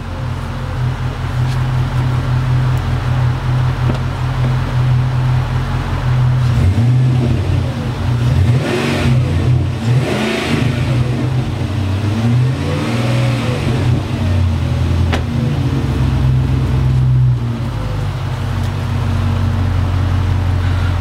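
A car engine revs as the accelerator is blipped during a lambda sensor diagnostic check, a steady idle hum rising and falling through a couple of louder surges in the middle, heard close and continuous without talk.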